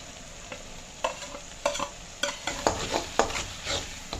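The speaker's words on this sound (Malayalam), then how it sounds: "ചെറുതായിട്ട് അരിഞ്ഞ സവോള ആൻഡ് പച്ചമുളക് കൂടെ ഇട്ട് കൊടുക്കുക." Chopped onion and green chilli fry in a pan with ginger-garlic paste and salt. A soft sizzle sits under a series of close scraping stirs and spatula clacks that come in irregular bursts, with no talk.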